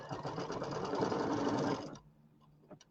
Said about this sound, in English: I'm going to go ahead and stitch the next step, which is actually number 8 in the machine